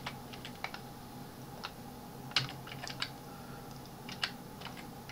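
Steady typing on a computer keyboard while entering variables and equations in Mathcad 14, with irregular clicky keystrokes, one sharper tap near the middle, close and alone in a quiet room.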